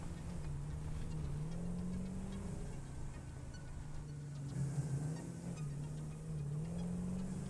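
Steady engine drone of a car driven in the Satisfactory video game, a continuous low hum with pitch rising and falling as it speeds up, loud and close throughout.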